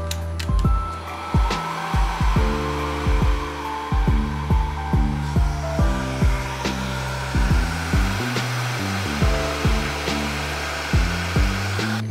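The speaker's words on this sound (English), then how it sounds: "Let's remove the LEDs with a heat gun set to about 350 degrees Celsius." Heat gun set to about 350 degrees Celsius, used to desolder LEDs from a TV backlight strip, a steady loud blowing roar overlaid by repeated low rhythmic thumps and clicks across the whole stretch.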